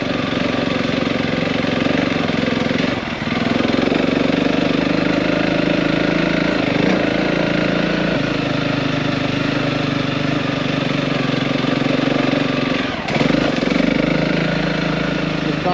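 An off-road motorbike engine labours steadily up a steep slope, a loud, continuous mid-pitched drone held at a fairly constant throttle, with brief dips around a few bumps.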